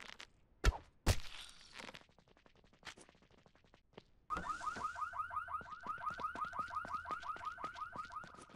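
Car alarm in the zombie survival game No One Survived, a steady repeating whooping pattern that sets in after a few scattered thuds and footsteps and keeps cycling at moderate loudness.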